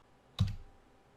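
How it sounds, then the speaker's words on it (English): A single sharp key press on a computer keyboard, heard as one close, crisp click with a short fading tail in an otherwise quiet room. "So I'll hit C on the keyboard"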